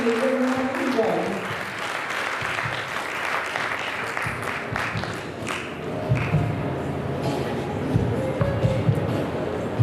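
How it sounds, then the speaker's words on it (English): A crowd claps at a Rotary Club installation ceremony, a broad wash of applause with scattered thuds and voices mixed in, holding steady across the stretch. "everybody can put their hands up and clap loudly"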